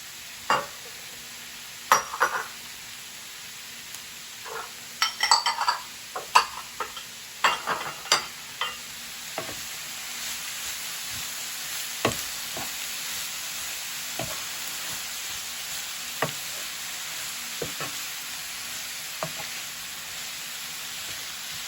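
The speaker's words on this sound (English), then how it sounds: "Then you stir it again." Cabbage stir fry is stirred in a pan over a steady sizzle, with irregular sharp scrapes and clacks of the utensil, dense at first and then sparser.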